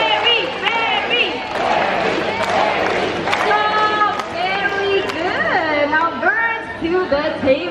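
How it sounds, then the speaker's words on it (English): Crowd at a bird show in a Singapore bird park cheering and chanting for a green-winged macaw, many voices shouting together with some clapping, lively and loud throughout. "clap your hands and shout his name, Barry, Barry!"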